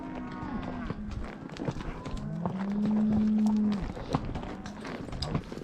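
Cattle moo on a Montana cattle drive, one long loud moo standing out among fainter distant calls, set against outdoor rustle and hoof movement, with people talking nearby.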